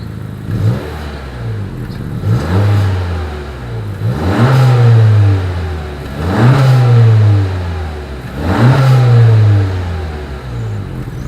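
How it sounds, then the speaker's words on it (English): A 2020 Honda Accord's exhaust revs three or four times in a steady rhythm, each blip climbing quickly and falling back to idle, loud and close with no talking. "As always, here is that exhaust clip."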